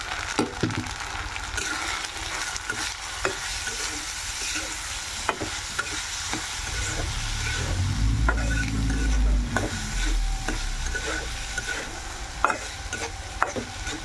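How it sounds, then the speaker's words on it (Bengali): Rice sizzles in a pan with onion and ginger paste, with frequent sharp scraping clicks of a spoon stirring against the pan over a steady frying hiss and a brief low rumble midway. "চালটা আগে একটু ভাজতে নিলাম"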